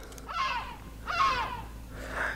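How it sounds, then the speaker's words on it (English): Seagulls calling near a tree at sunset, three loud harsh cries spaced about a second apart, close by and alone. "Shut up, noisy birds. Noisy seagulls."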